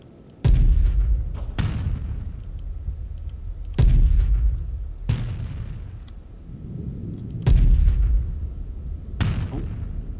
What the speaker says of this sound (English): It makes such a boom when it fires.